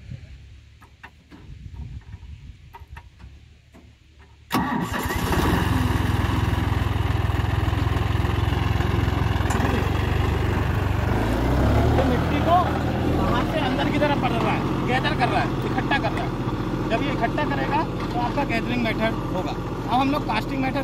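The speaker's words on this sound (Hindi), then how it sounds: "यहाँ पर ट्रैक्टर अंदर से बाहर की तरफ जाएगा, राइट की तरफ मिट्टी पलटेगा।" A tractor engine starts up and runs steadily while ploughing a field, a loud, continuous low rumble that follows a few seconds of quieter background noise, with people talking over it.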